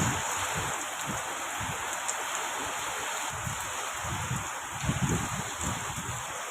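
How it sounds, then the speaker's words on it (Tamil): Heavy rain driven by wind pours down in a steady, dense hiss, with low gusty rumbles rising and falling underneath and no voices. "மழை வந்து பார்த்திங்கன்னா செம்மையாக வந்து பெய்ய ஸ்டார்ட் ஆகிடுச்சு"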